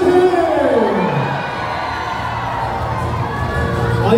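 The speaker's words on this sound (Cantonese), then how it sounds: "俾啲掌聲兩位啊" A crowd cheers and claps at a promotional stage event for the TV drama as actors Bosco Wong and Jessica Hsuan come on stage. The cheering is loud and continuous, with a host's voice carrying over it.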